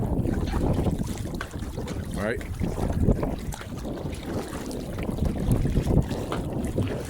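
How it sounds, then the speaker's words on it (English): Steady wind buffets and roars across open water out on a boat, rumbling low and gusting unevenly throughout, with a brief spoken word near the start. "If it's a steady wind, waves are going to pick up current, power, and it'll be more turbulent out here."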